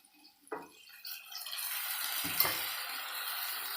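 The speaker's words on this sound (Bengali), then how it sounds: "একটু হলুদ গুঁড়ো দেবো। জল দিয়ে দেবো।" Water poured into a pan with turmeric powder for a Bengali fish curry, a broad liquid splash and sizzle building after brief clinks and a utensil knock, close and steady with no talk.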